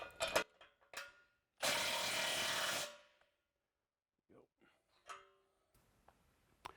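A ratchet with a 15/16 socket tightens bolts onto nylock nuts on a Case IH tank bracket. Close, separate clicking bursts are heard, with one longer rasping stretch in the middle and quiet gaps between.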